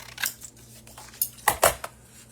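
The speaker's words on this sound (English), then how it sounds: "So I'm going to just cut the first one off" A few short, crisp snips of scissors cutting through paper card stock for a handmade double diamond card, close up and quiet, with brief pauses between cuts.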